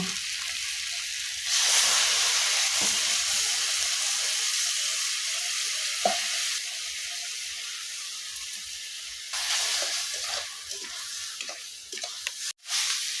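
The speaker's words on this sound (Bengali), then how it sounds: "এখন মশলাটাকে ভালো করে কষাকষি করে নেব সবজি মশলা দিয়ে" Spices and vegetables sauté in oil for a Bengali mushroom kosha, giving a steady close sizzle with bursts of louder frying hiss and occasional stirring scrapes throughout.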